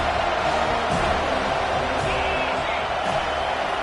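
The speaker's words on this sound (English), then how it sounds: "Decibels rising as the crowd gets behind this defense on third down" A football stadium crowd swells into a sustained, loud roar as the defense faces third down, with dense crowd noise filling the whole moment and faint whoops rising above the din.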